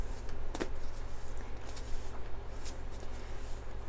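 A deck of symbol cards being shuffled close up, soft papery riffles and slides in irregular bursts over a steady low hum in a quiet room.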